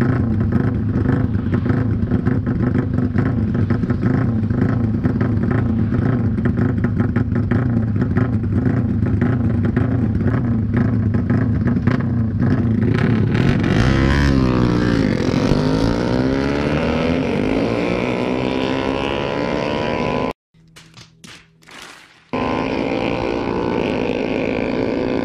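Loud Honda RS150R V2 motorcycle engine while riding, a steady droning hum that rises in pitch as it revs and accelerates, briefly cutting out near the end before returning.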